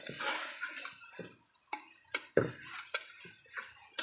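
Quail being stirred into a tomato and ginger curry in a clay pot, with faint scraping, sharp clinks and knocks of a utensil against the pot, sparse and close, alone without talk.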